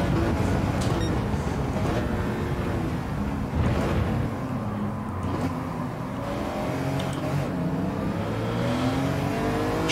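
Race car on the Red Bull Ring in Gran Turismo 7, engine accelerating and holding a steady loud drone with shifting pitch throughout, close and continuous.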